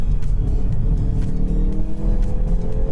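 Hyundai i30N rally car at full throttle on the Adelaide Rally stage, a loud continuous engine drone with rapid rhythmic pulsing and brief gear-change dips, close and steady without speech.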